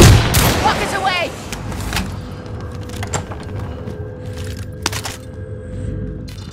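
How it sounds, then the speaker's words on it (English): Rockets fire and burst in the Call of Duty Warzone video game, a sharp launch blast followed by scattered cracks and booms of gunfire, over a low background rumble. "Rockets away."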